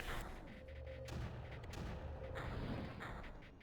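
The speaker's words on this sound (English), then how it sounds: "Because we're gonna be using mortars a lot." In the video game Creeper World, mortar shots boom over and over in a continuous, loud barrage of overlapping thumps with no pause.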